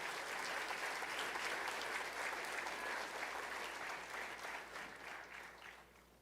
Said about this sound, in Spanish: ¿Podemos dar un aplauso al Señor por eso?